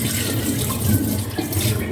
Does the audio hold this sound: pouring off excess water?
yes